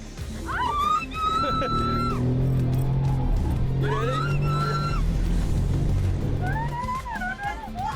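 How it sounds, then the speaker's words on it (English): A woman passenger screams and shrieks repeatedly while an F1 driver takes her around the track in a fast car; her rising, wavering cries come in bursts over a steady engine drone and road rumble. "Every turn had her screaming in a different way."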